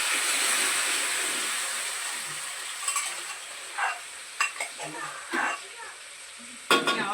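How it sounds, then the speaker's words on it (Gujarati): Garlic paste sizzles steadily in hot oil in a pan, with a spoon scraping and stirring in irregular bursts toward the end; no talk is heard. "તેમાં આપણે લસણ વાળી પેસ્ટ નાખી દેવાની"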